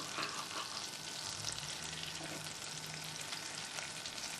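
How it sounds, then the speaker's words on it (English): Butter or olive oil heating in a medium-sized pan on the stove, a faint, steady sizzle and crackle that holds on without a break and with no voices. "Heat the butter or olive oil in a medium-sized pan until the olive oil is hot or the butter is melted."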